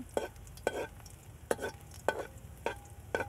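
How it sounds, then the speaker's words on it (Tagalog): A little ginger sautéing in a pan, a soft steady sizzle broken by regular scraping strokes of a spatula about twice a second, close and fairly quiet. "pagkagisa ng kaunting luya"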